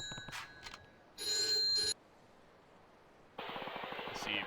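A telephone in Yakuza 3 Remastered rings in two distinct electronic bursts separated by a quiet gap, loud and close, with brief game sounds before the first ring.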